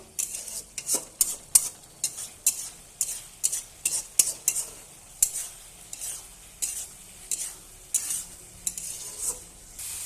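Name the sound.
egg and potato curry being sautéed and stirred in pan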